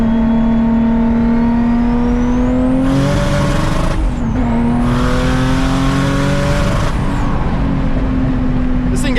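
A Nissan VQ engine revs hard in quick pulls, rising sharply to redline twice with a brief drop between, loud and close with a steady idle drone around the revs.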